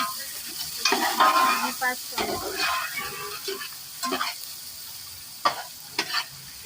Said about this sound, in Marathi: तेल गरम झालंय आता कांदा टाकून घ्यायचा